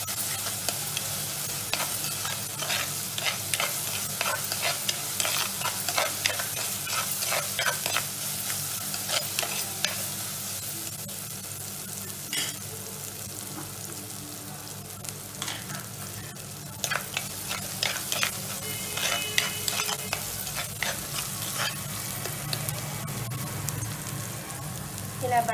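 Spices frying in oil in a pan for a freshwater pomfret fish curry give a steady, soft crackling sizzle, broken by repeated close scrapes and taps of a spoon stirring, with no voice over it.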